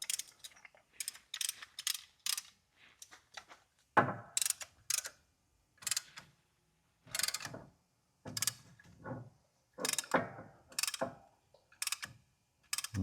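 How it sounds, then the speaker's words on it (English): Inside a Hyundai Sonata brake job, a piston press tool pushes a caliper piston back, giving rapid bursts of ratcheting clicks in an irregular stop-start rhythm, close and crisp against a quiet background. "piston press tool for the calipers"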